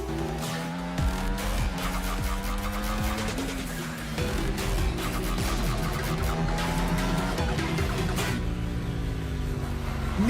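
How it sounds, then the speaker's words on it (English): Racing cars roar and whine through the whole stretch of a racing video game, loud and dense, with engine pitches sweeping up and down and tires squealing, no talk over them. "Engines roaring and ready to go."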